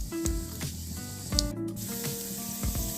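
Mustard seeds, urad dal and cumin sizzle and pop in hot oil in a kadai, with a steady frying hiss broken by several sharp crackles and spatters close by.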